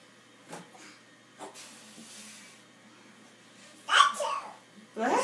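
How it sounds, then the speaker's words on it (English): A single forceful sneeze erupts up close, preceded by faint shuffling and hissy breaths in a quiet room. "That's a big sneeze."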